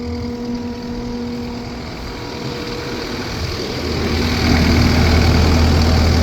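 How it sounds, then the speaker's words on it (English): The Kubota diesel in a 2014 Takeuchi TL12 skid steer idles with a steady low rumble and a constant hum, swelling slightly louder toward the end. "Kubota diesel."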